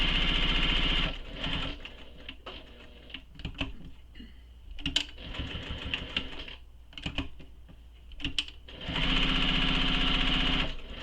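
Sewing machine topstitching fabric connectors for a bag, running in steady rapid bursts at the start and end with quieter pauses, clicks and handling noises between the stitching runs.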